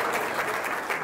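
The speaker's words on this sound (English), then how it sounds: "Give her a big round of applause" Applause from an audience greeting a young athlete at a coaching event, a brief dense patch of clapping at steady loudness with no pauses.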